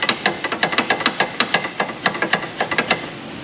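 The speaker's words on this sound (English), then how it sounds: "I'll hit it with a hammer." Rapid, sharp hammer blows strike a stuck part on a 2010 Honda Civic 1.3 CVT Hybrid, roughly twenty close metallic hits in quick, slightly uneven rhythm over a few seconds.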